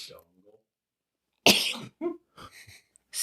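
A single sharp sneeze bursts out after a quiet stretch, followed by a short gasp and a few small breathy vocal sounds, close to the microphone indoors.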